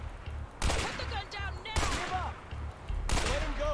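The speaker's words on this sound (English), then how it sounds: "You can't just keep shooting in the air." Three loud gunshots ring out in the co-op video game A Way Out, spaced about a second apart, each a sharp broadband crack with a ringing tail over a pulsing game music bed and brief voice-like game sounds.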